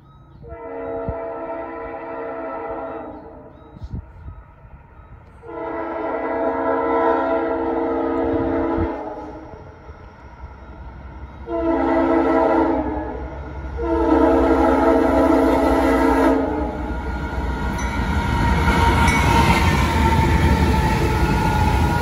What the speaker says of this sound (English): Here comes the test train.